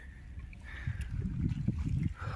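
Irrigation water gurgling and trickling into a farm field, a steady low churning rush that swells slightly midway and continues without pause.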